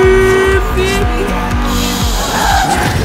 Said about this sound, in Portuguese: Olha o drift.